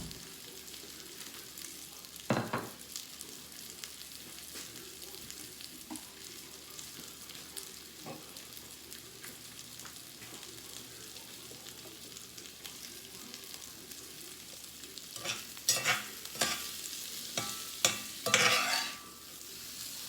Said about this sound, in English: Get these browned up.